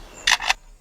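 A lyrebird mimics a camera shutter with two short, bright clicks in quick succession, close and clear against a quiet background.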